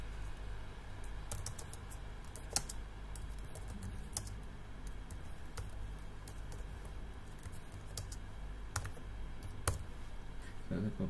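Typing on a computer keyboard, with soft, quick key clicks in irregular bursts and a few louder taps, close by and fairly quiet over a low background hum.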